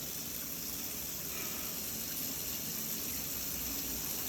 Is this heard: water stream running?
yes